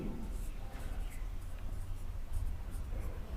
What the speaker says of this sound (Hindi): चलिए तो इसको लिखते हैं।